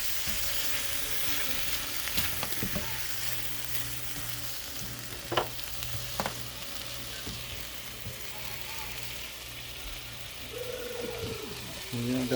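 Onions frying in a pan give a low, steady sizzle with a few sharp stirring clicks and scrapes, while background voices and faint bird coos drift underneath.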